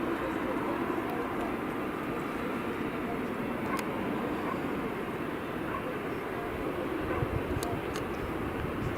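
A Boeing 747 jumbo jet departing Stansted Airport, heard as a steady, broad engine roar that stays loud and constant throughout, with faint background voices.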